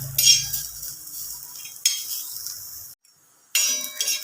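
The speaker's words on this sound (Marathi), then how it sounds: "आपल्याला कांदा अगोदर छान भाजून घ्यायचा आहे" Onion roasting in a pan gives a close, bright sizzle in a few bursts, with spatula scrapes and a short silent gap before the hiss returns. No one speaks.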